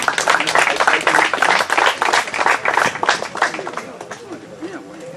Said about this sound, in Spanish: Un aplauso también.